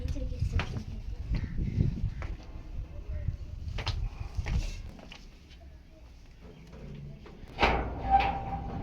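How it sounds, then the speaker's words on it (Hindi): A door bumps and clatters shut in a home, with a couple of scattered knocks earlier and a firmer thud near the end, under ongoing conversation. "नहीं बंद कर दो शोर आता है इसका दरवाजे का"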